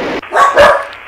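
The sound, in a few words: dogs barking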